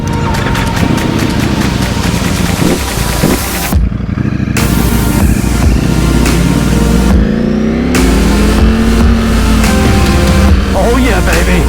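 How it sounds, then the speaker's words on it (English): A Ducati Streetfighter V4S motorcycle accelerating hard on twisty mountain roads, loud and close, its engine note rising sharply through the gears with brief drops at each shift, while a rider talks over it. "I'm going to be riding the StreetFighter V4S, and we're going to be taking this thing on some sweet roads"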